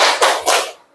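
Two quick hand claps in a classroom focus clapping game, sharp and close, evenly spaced, with no talk over them.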